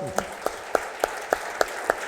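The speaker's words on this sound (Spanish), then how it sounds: "Le damos un aplauso al Señor." Evenly spaced single claps ring out about every quarter second, a steady rhythmic clapping by a church congregation over a faint background murmur.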